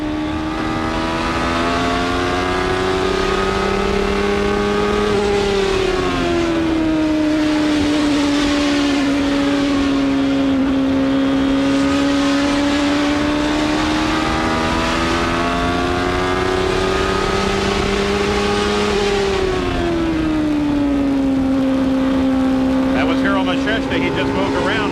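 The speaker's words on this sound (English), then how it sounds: "Let's just ride with this car and listen to how he controls the throttle." Onboard a 1994 CART race car at the Milwaukee oval, the engine drones loud and continuous, its pitch rising and falling smoothly as the driver works the throttle through laps.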